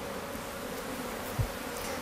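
Honeybees at a garden beehive hum in a steady, dense drone, close and continuous, with one brief low thump partway through and no voices.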